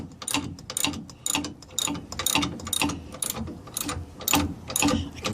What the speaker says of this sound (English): So I'm tightening them up as even as possible.